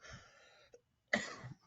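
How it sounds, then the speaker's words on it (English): A person with a month-long cough coughs, with a short burst at the start, a pause, then a louder cough close to the microphone. "battling a little bit of a month-long cough here"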